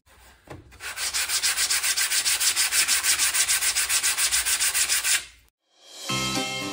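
Wood being sanded by hand for Halloween decorations, a loud steady run of rhythmic scratchy back-and-forth strokes for about five seconds, then a brief pause before another sound begins.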